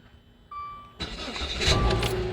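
A 2014 Dodge Dart with a 2.4 liter MultiAir engine cranks and starts after a starter replacement, after a brief chime: a short crank then the engine catching and rising into a steady close idle.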